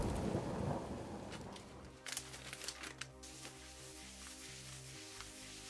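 Heavy rain pours down, a low thunder rumble dominating the opening seconds, then scattered crackling drops and a tonal hum carry on at a faint, steady level.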